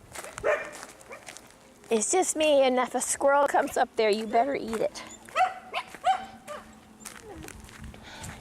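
Dogs bark and yelp in a short flurry, mixed with a person talking nearby, then the barking fades as the talk continues.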